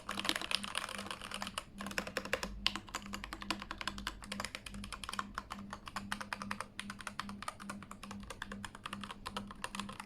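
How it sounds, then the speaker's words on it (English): Steady typing on a Keychron K8 mechanical keyboard fitted with new keycaps, dense rapid keystrokes clattering close and clear for the whole stretch, with brief pauses and no voices. "see and hear my new keycaps that I'm gonna put on this keyboard"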